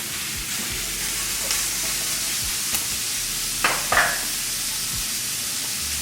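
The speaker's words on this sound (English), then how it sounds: "So, now I'm gonna add the shrimp." Shrimp hit a hot pan for a Mexican-style a la diabla dish, raising a loud, steady sizzle with a few sharp crackles and pops and the occasional clack of a utensil.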